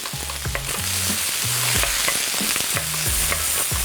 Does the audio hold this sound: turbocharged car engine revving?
no